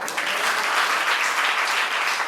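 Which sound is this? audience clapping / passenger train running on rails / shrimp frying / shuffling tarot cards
audience clapping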